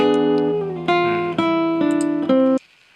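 Clean jazz guitar chords from a chord melody ring out in a short, halting sequence of about six strums, each sustaining before the next, then stopping into silence.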